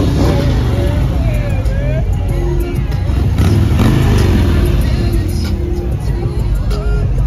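Car with an LSA engine accelerating hard in first gear, a loud close engine roar under excited voices and crowd noise.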